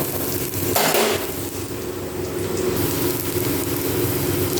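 Pumpkin greens go into a pan of fried dried chilli, crushed garlic and onion with a brief rustling drop, followed by steady sizzling and the scrape of stirring against the pan.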